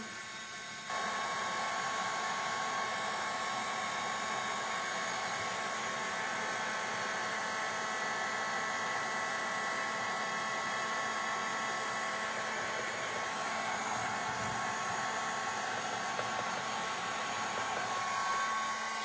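A hair dryer blows steadily on a wet painted artwork, a loud continuous whirring hiss starting after a brief moment and running unbroken throughout, close to the microphone with no talk.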